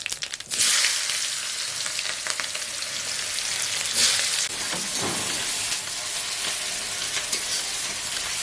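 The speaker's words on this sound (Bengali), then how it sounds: "তেল গরম হয়ে গেছে পেঁয়াজ দেবো পাঁচ ফোড়নের পরে" Onions hitting hot mustard-flavoured fish-frying oil with panch phoron, a sudden loud sizzle burst that settles into a continuous crackling hiss, with occasional stirring scrapes and a second flare midway, close and without speech.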